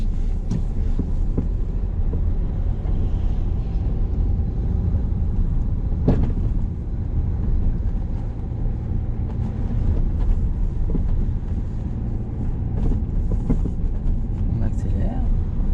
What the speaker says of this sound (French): On accélère et on met la 3.